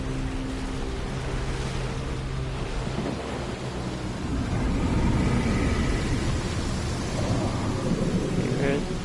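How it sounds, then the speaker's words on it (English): A water tornado in the video game Genshin Impact churns as a loud, continuous roar of rushing, crashing water and deep rumbling, like a storm at sea, swelling stronger after a few seconds and staying constant, with a low tone underneath at first. "Or water tornado."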